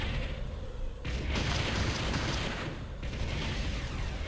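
An enemy structure blowing up in the real-time strategy game Ground Control: a dense, roaring explosion that swells into a rumbling burst, then fades and rises again amid continuous battlefield noise.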